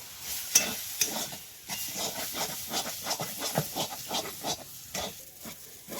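A spoon stirs turmeric, chili powder and fried spice powder in a pan for mini samosa filling, making rhythmic scraping strokes over a soft steady sizzle, close and without talk.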